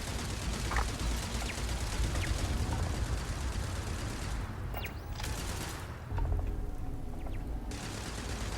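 Turret gunfire in the video game Starfield, a dense, continuous rattle of rapid shots forming a loud wash with occasional sharper cracks, steady throughout.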